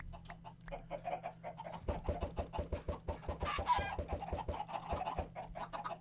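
Minecraft chickens in a coop on an FTB modpack server, clucking in short repeated bursts over a steady low hum, with a quick cluster of sharper calls near the middle.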